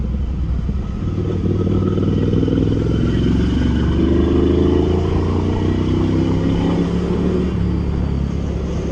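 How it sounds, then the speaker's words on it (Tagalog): Big bike motorcycle engine rumbling steadily throughout a short club ride, with a loud low drone and a gently rising pitch as it accelerates, and no talking. "Motorsiklo"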